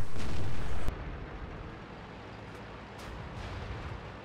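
A tank gun fires in World of Tanks, one loud boom that cuts off sharply, followed by lower engine and battle rumble with faint distant pops.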